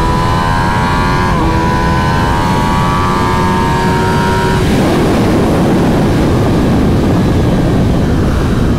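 A 2021 Kawasaki ZX-10R sport motorcycle engine revs up with rising pitch, then roars on at full throttle under heavy wind rush.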